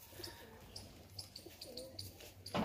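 Pet pigeons coo softly at close range in low, rolling murmurs, with a few faint chirps and a brief louder rustle at the very end.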